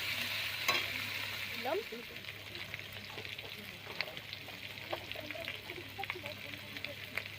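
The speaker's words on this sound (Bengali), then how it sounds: "এবার আমি একটু কষিয়ে নেব মশলাটা" A spice masala for a small crab curry sizzles steadily in a pan while a spoon stirs it with scraping clinks. A voice talks quietly over the cooking.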